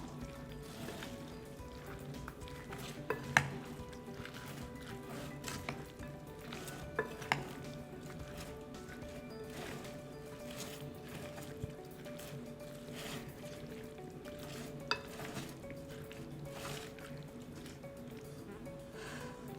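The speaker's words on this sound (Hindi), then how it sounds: "अभी इन सब को मिक्स करें।" Ingredients for chana papdi chaat, including chickpeas and chaat masala, are stirred together in a bowl, with soft continuous mixing and scraping and a few sharper clinks of a spoon, fairly quiet and without talk.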